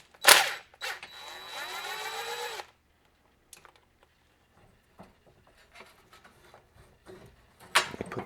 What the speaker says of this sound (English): So I need to take the bolt out of the pulley.